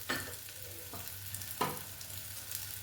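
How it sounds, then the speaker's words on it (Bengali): Spice paste sautéing in a pan makes a soft, quiet sizzle broken by a few sharp scrapes of a spatula against the pan, with nobody speaking. "দেওয়ার পরে মশলাটাকে খানিকক্ষণ একটু কষে নেব"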